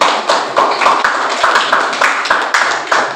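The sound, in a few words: applause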